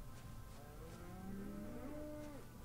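Blocky cows in the Minecraft video game low and drawn-out, several overlapping moos sliding in pitch across the stretch, steady and fairly clear over a faint game background with no talk.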